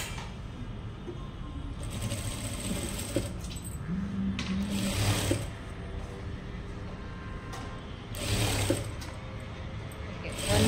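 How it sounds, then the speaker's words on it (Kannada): A sewing machine double-stitching a blouse puff sleeve whirs in short bursts, with quieter pauses and mechanical clicks between runs, close by in a room with low background hum. "ಇನ್ನೊಂದು ಸ್ಟಿಚ್ ಹಾಕ್ಕೊತೀನಿ ನಾನು. ಡಬಲ್ ಸ್ಟಿಚ್ ಹಾಕ್ಕೋಬೇಕು."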